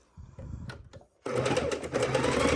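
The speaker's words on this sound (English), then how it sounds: "I'm going to sew right over that V" Sewing machine stitching through a bulky fabric bowl cozy: a few short stuttering bursts, a brief pause, then a steady loud whirring run of stitches.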